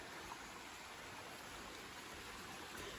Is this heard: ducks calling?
no